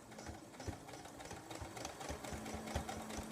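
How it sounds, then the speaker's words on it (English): A sewing machine stitches steadily around the edge of a towel, with a soft, continuous mechanical whir and a quick rhythmic clatter at moderate distance. "So I'm going to turn it here now and sew all the way around it."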